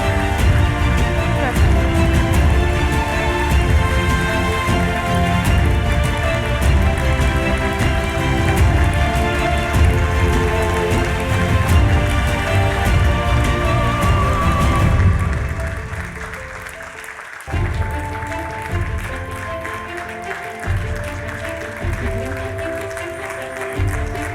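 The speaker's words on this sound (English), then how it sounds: "Ladies and gentlemen, a big applause." Audience applause at a Warsaw Security Forum award ceremony for the Knight of Freedom honour, a dense, loud, sustained clapping roar that thins and softens toward the end.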